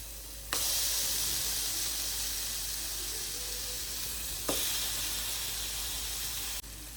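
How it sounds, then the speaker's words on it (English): Loud, steady sizzling of Salisbury steak patties frying in a hot pan, a constant crackling hiss with a couple of soft clunks as things shift. "you want to sizzle when it hits the pan"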